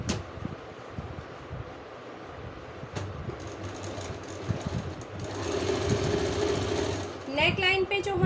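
A sewing machine stitches the neckline of a yellow blouse in bursts of rapid whirring, starting and stopping close by, while someone talks over it.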